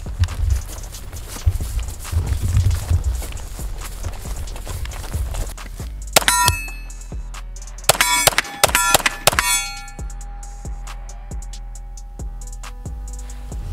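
A Glock 19X pistol fires a quick string of sharp, loud shots in the middle, each ending in a bright metallic ring, with lighter clanks and shuffling around them and a low steady hum afterward.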